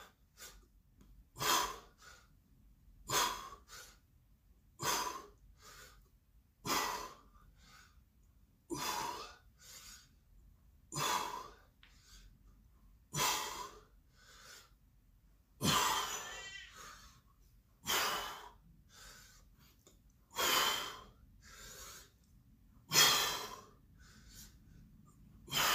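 Heavy, loud breathing during an at-home fitness test exercise, with about fifteen strong exhales and gasps in a steady rhythm a second or two apart, close and alone.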